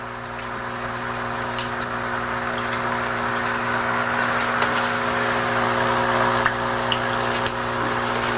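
Water bubbling from an oxygenating air pump in a small hydroponics setup, a steady close hum with fizzing, trickling water and occasional soft drips throughout, no voices.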